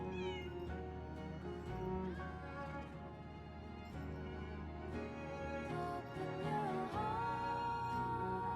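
A kitten in Lies of P gives several clear, close meows over soft background music that plays throughout.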